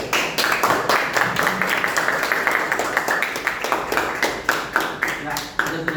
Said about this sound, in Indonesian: Tepuk tangan untuk kedua belah tim.